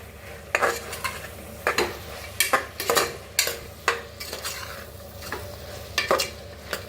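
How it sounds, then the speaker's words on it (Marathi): A spoon scrapes and stirs masala with tomatoes, turmeric, chilli and coriander powder roasting in a pan. Irregular strokes come close and clear over a soft, steady sizzle, with no talking. "बघा छान असा मसाला भाजून घ्यायचा"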